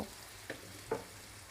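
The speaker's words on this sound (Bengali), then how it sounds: "তখন আমি দুই কাপ পেঁয়াজ কুচি দিয়ে দিব পেঁয়াজটা আমি হালকা বাদামি করে ভেজে নিব" Two cups of chopped onion fry in lightly heated oil until light brown, for a rohu fish bhuna: a soft, steady sizzle broken by two brief scrapes of stirring, quiet and close, with no voices.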